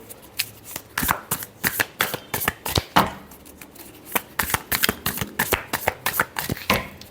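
Tarot cards being shuffled by hand for a Leo reading, a close, steady run of crisp riffling bursts and soft slaps repeating quickly throughout, with no talking.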